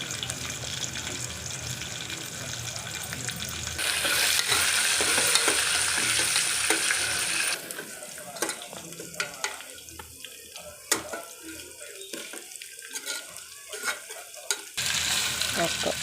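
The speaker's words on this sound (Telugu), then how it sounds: "గోల్డెన్ కలర్ వచ్చేందుకు ఫ్రై చేయండి." Onions fried until golden with chillies, seasoning seeds, cumin and fenugreek in a pan, with steady sizzling and scraping stirs, loud bursts in the middle, then quieter clinks and scrapes near the end.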